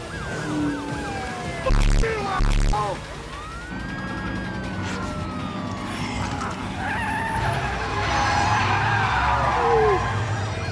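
A car skids with loud screeching tyres in the Metal Gear Rising: Revengeance video game, amid a siren-like wail, engine roar and heavy impacts, with game voices speaking.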